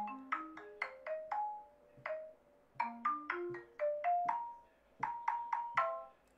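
The Super Mario Brothers theme built in Chrome Music Lab Song Maker plays as bright, synthetic plinking notes in two short rising-and-falling phrases, played slowly and cleanly with no talking.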